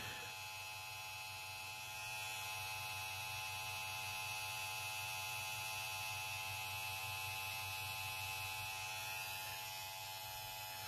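SURKER K7S cordless hair clippers run steadily throughout, giving a constant electric buzz with a strong tonal hum that stays even and fairly loud, with no talking.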